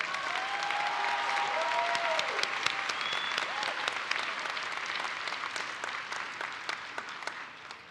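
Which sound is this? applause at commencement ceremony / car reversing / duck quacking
applause at commencement ceremony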